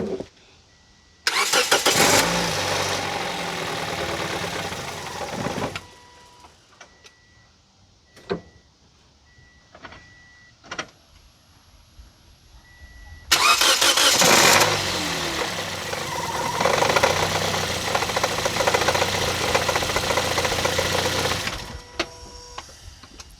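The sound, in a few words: Toyota Yaris engine running rough at low RPM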